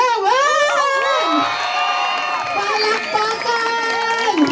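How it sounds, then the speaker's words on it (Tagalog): Loud crowd screams and cheers fill a night fiesta pageant, with shrill voices and shouts rising and falling continuously over an announcer's voice. "Isa pang hiyawan!"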